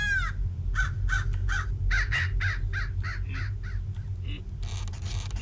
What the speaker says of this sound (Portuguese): Tem esse corvo maldito, fica gritando